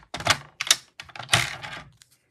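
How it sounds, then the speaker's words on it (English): Paper strips being sliced together in one pass on a paper trimmer, a few crisp close-up cutting strokes and scrapes in quick bursts, with no one talking. "I'm going to use my paper trimmer and do that"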